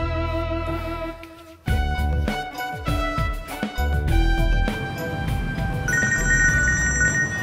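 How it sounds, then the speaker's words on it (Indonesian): A mobile phone rings with a loud, melodic electronic ringtone, its repeating tones carrying clearly through the whole stretch with no voices over it. "Pur, itu yang bunyi handphone saya ya Pur?"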